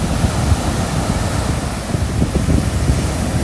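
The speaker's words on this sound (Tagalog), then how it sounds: "Big waves." Ocean surf rolling in at Redondo and Hermosa Beach in California, a steady broadband wash of breaking waves mixed with wind buffeting the microphone, loud and continuous throughout with no clear voices.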